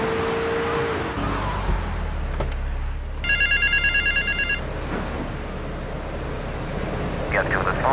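Payphone ringing in the video game GTA 3, a short burst of repeated electronic bell trills in the middle of engine rumble and game ambience, with a voice speaking nearby.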